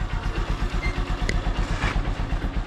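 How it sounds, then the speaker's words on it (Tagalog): A Honda Supremo motorcycle engine idles steadily after a choke start, a close, even, rapid thumping putter with a slight clatter and no voices. "So ito pala yung andar ng aking Honda Supremo."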